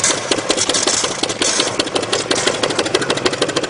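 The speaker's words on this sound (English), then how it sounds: "Once the pump starts to click over this fast, you do want to shut the air off to it" A StreetPrint Rapid Sprayer II air pump clicking over rapidly as it runs empty, a dense, fast mechanical chatter that stays loud and steady throughout with no talking.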